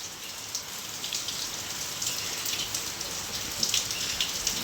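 Steady rain falls outdoors, a dense even patter of drops on surfaces that continues without a break, with occasional slightly louder splashes.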